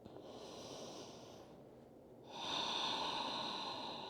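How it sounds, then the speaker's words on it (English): Slow, deep yoga breathing close to the mic: a long airy inhale, a brief pause, then a stronger, louder breath through the nose, soft and unhurried, with no talking. "Let's do 2 breaths."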